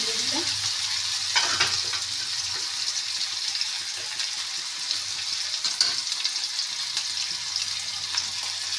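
Chili frying in hot oil in a pan, a loud continuous sizzle with bright crackling hiss close by, plus a few stirring scrapes and a low background hum throughout.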